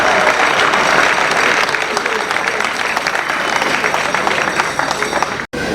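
A large crowd at a Congolese wedding breaks into loud, dense, sustained applause that fills the room without a break, then cuts off abruptly just before the end.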